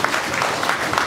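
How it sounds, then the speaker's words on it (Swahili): Brief burst of dense audience clapping at a school event at Heaven English Medium School, a continuous patter of many hands filling the moment. "Tuwapigie makofi."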